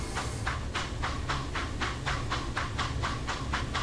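Steam locomotive on the Corris Railway in Train Simulator 2019, running steadily with a rhythmic chuffing exhaust of regular beats over a continuous low rumble and hiss.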